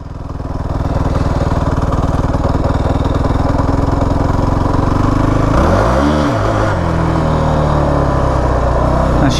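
Kawasaki KFX 450R ATV engine in first gear, loud and close, chugging at a steady low idle before a sharp throttle blip rises and falls around the middle, then settling back to a rough, lugging run.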